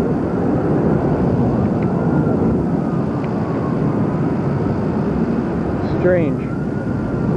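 Jet aircraft afterburners roar from high overhead as a loud, steady rumble that fills the whole stretch, while people talk beneath it.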